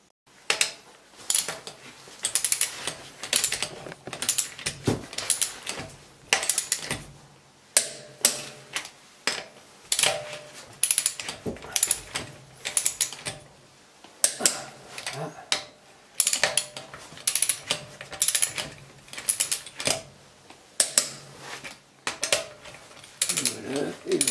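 Hand ratchet tightening the nut on a Mercedes rear wheel bearing, a long run of quick clicking bursts in an uneven rhythm, close and moderately loud, with brief pauses between strokes.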